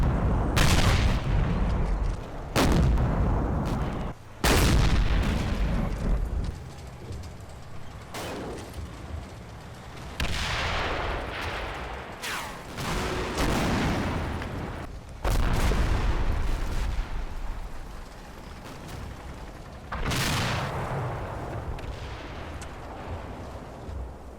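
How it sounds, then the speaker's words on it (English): Anti-tank guns and artillery in the Combat Mission Red Thunder wargame, heavy booming blasts at irregular intervals, each a sharp loud report followed by a long rumbling decay, with no talking. "Now a support track and another anti-tank gun from the village opened up."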